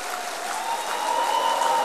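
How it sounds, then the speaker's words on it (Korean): Church congregation claps together in steady, dense applause that stays loud and even, swelling slightly toward the end with no talk over it. "우리 큰 축복의 격려 박수 부탁합니다"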